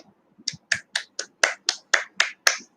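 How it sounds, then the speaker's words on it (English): Children clap for themselves at the start of a class, ten sharp claps in a steady rhythm, close and clear with no talk. "Now let's clap for ourselves"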